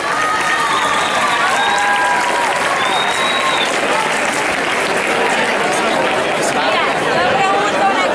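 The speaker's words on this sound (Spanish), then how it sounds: "un aplauso para él" Sustained loud clapping from a crowded audience at a 2015 school graduation ceremony, dense and continuous with scattered cheers and faint babble mixed in.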